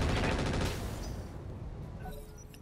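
Dense, rapid gunfire bursts from mech machine guns in the modded Battletech game RogueTech, loud and continuous at first, then fading into a lower rumble of combat.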